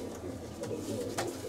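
Pigeons coo softly inside a loft in Larissa, a low rolling murmur of several birds close by, with a couple of brief sharper calls standing out.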